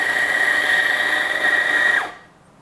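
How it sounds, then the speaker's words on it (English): A La Marzocco Linea Mini espresso setup's grinder runs as 17 grams of coffee are ground for espresso: a loud, steady high whine for about two seconds that stops abruptly, leaving near silence. "I'm going to grind 17 grams."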